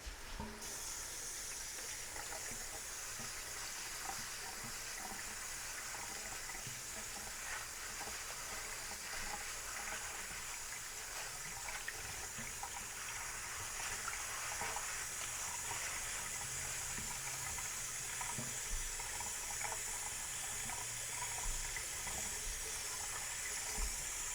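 Kitchen tap water running steadily while buckwheat is washed, a continuous broadband hiss and splash that holds at an even level for the whole stretch, fairly close, with no talking.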